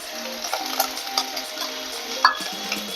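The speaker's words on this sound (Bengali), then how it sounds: "সর্ষের তেল গরম হওয়ার পর এগুলো দিয়ে দিলাম।" Garlic, green chili and onion sizzle in hot mustard oil in a pan, a steady close frying hiss broken by stirring scrapes and one sharper clatter.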